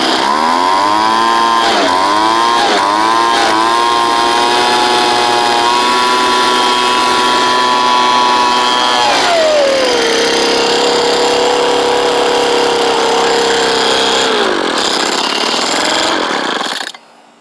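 A small two-stroke engine fitted with a Zama/Walbro carburetor runs loud and close, buzzing steadily with a few quick revs early on, then dropping to a lower pitch before cutting out abruptly.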